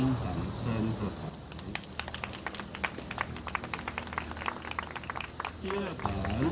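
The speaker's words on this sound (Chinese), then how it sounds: "请来宾掌声喝彩" Guests at a groundbreaking ceremony for a Japanese manufacturer in Tainan break into a burst of dense, crackling applause lasting several seconds, with an announcer's voice heard around it.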